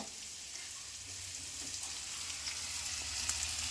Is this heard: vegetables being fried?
yes